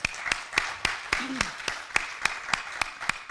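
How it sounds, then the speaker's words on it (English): Sparse, slow applause from a small conference audience for a panel, with a few distinct claps spaced at a steady beat and a brief vocal sound in between. "Can we please give our panelists a round of applause?"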